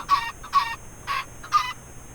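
Chicken in the video game Survival Island gives four short clucks in an even rhythm, close and clear over a quiet background.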